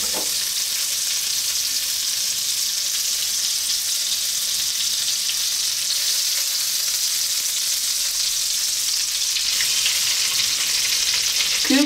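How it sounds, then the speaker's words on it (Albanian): Butter and oil sizzle steadily in a hot pot, a dense, even frying hiss that holds close and loud for about twelve seconds with no voices over it. "Hedhim në tenxhere pak gjalp dhe pak vaj."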